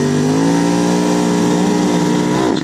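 A Ducati Diavel and a BMW S1000R at a streetbike drag race roar loudly together, engines holding a strong steady drone as pitch climbs under hard acceleration, harmonics rising smoothly before a quick drop near the end.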